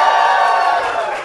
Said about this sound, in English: give us a cheer if you've listened to Do Go On before